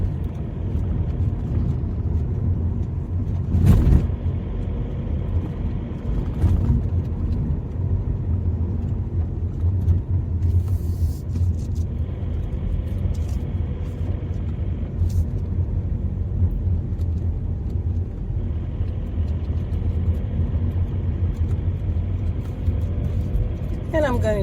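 A car drives slowly around a campsite at Foz do Arelho, Portugal, with a steady low engine and road rumble throughout, a few brief knocks, and talk faintly over the drone.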